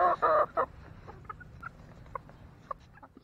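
Backyard chickens being fed mealworm treats give a loud burst of clucking at first, then scattered, softer clucks and short calls at irregular intervals, fairly close by.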